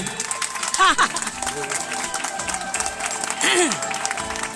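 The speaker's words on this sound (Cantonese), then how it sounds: "掌聲！" Audience applause at a concert in Toronto, scattered clapping and crowd noise with a few singing or shouting voices rising over it, moderately loud and fairly close.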